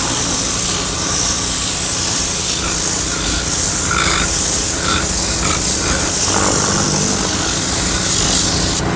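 Steady, loud blast of compressed air from a Vortex air tool fed by a 6-gallon compressor, agitating a car seat, with the hiss shifting slightly as the nozzle moves.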